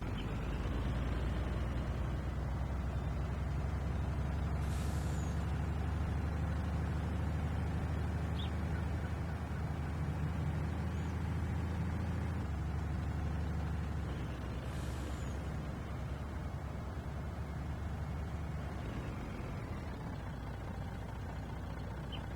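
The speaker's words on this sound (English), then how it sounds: "The delivery truck just showed up." A delivery truck arrives with a continuous low engine rumble, and two sharp hissing air-brake releases stand out, one around the middle and another toward the end.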